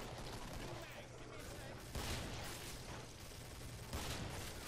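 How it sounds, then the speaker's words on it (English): Dense, continuous gunfire from the video game Killing Floor, a steady rattling fusillade with two louder bursts, playing fairly quietly throughout. "I've shot you in the head like 8 times."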